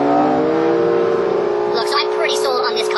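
2017 Acura NSX supercar driving at high speed, its engine giving a steady droning hum with stable tones, joined by talk in the cabin partway through.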